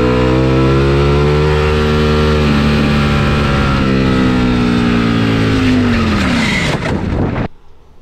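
A motorcycle at high speed on a race track, its loud engine whine holding steady then rising and falling before dropping abruptly to near silence at the moment of a crash.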